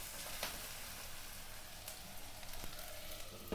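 Aloo methi gravy sautéing in a pan, cooked toward brown: a steady, close sizzle with scattered crackles and pops running throughout, no voices.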